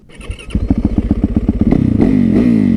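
A motorcycle engine fires up with a rapid, pulsing rhythm, then revs louder and higher, close and loud.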